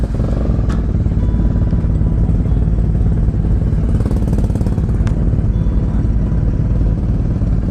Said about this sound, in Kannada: ಅಷ್ಟು ಜನ ಕಾಯ್ತವ್ರೆ ಲಿಖಿತ್ ಗಾಡಿ ಸೌಂಡ್ಗೆ.